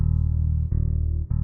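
Lofi/bass house MIDI keyboard chords played through reverb with the EQ switched off: thick, bass-heavy sustained tones that shift to a new chord twice in quick succession, with no talking.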